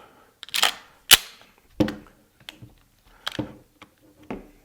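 Several sharp metallic clicks and clacks sound at irregular intervals as a part is loosened by hand on a pawn shop shotgun being torn down, close and isolated against quiet.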